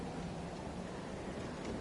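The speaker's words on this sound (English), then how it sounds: "Sounds pretty loud. Rain." Rain in the video game Bloodborne, a steady, dense hiss of falling water that holds at an even level throughout, with no voices over it.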